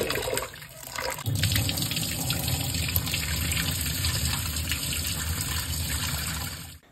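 Rice is washed in running water for chakinalu, a steady splashing gush like a tap filling a sink that carries on for several seconds, then cuts off abruptly at the end.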